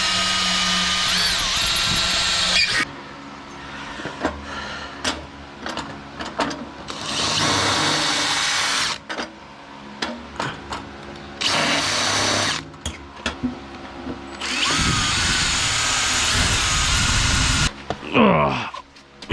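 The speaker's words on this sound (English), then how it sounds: "I think the first thing I want to do is drill this" A power drill whirs in several bursts of a few seconds each, with quieter handling noises and pauses in between.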